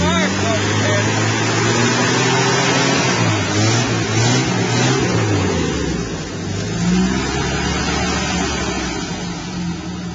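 Engine of a 1985 Jeep idling steadily after a cold start, a loud, continuous low rumble with slight rising and falling revs, while people talk over it.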